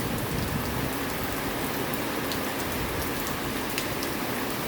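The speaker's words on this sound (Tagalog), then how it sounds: "Lakas-lakas din ng ulan." Heavy rain pours steadily and loudly on leaves and surfaces of a garden with rosary bead plants, a dense unbroken hiss with no voices.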